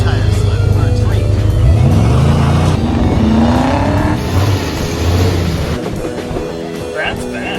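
A 1950 Chrysler Traveler engine revving loudly and rising in pitch as the tires slip, up close, with voices talking over it.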